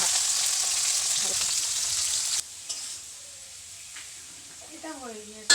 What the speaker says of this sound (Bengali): সবজিগুলো সব ভাজা হয়ে গেছে।